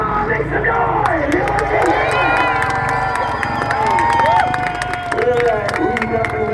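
A freestyle motocross crowd at a fair tail whip contest cheers and shouts loudly and steadily, with whistles and voices rising throughout, while a voice talks over the noise.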